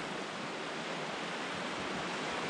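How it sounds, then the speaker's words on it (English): Steady, broad wash of ocean waves on the shore at a wild campsite in wind and rain, a constant, fairly soft roar with no distinct breaks and no voices. "Nice and cozy with the rain, sound of the waves."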